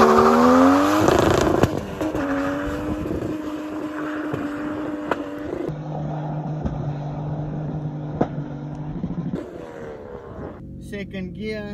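Turbocharged Mercedes W203 with an M104 engine accelerating through the gears, a loud rising engine note with distinct shift drops, wind buffeting the microphone, and a voice speaking briefly near the end.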